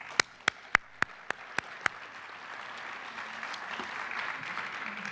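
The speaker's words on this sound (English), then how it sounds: "So I'd like to give them a round of applause." Applause from the audience at an awards ceremony: a few sharp, evenly spaced claps come first, then they swell into sustained, moderately loud clapping from the crowd.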